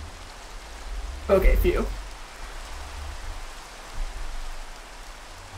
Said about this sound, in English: It's still raining. It's raining over here.